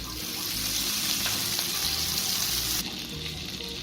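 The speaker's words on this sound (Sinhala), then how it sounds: "දැන් පෑන් එකක් ලිපේ තියලා පෑන් එක රත් වෙනකොට බටර් ටික දානවා." Butter and oil sizzle steadily in a hot pan on a stove, a continuous close frying hiss that briefly drops in level near the end, with faint voice in the background.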